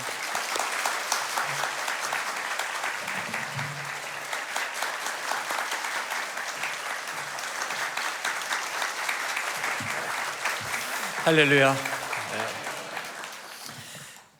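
Sunday worship congregation at a Korean church applauding to welcome the pastor to the pulpit: sustained, even crowd clapping for most of the stretch, a voice calling out near the end over the continuing applause.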